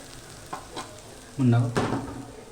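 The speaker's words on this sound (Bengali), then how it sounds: "আমি জাস্ট এখন খুন্তি দিয়ে একটু নাড়িয়ে দেখব" Raw banana fritters fry in mustard oil while a metal spatula pushes them around, soft bubbling under a couple of louder scraping stirs and a brief surge of crackle near the end.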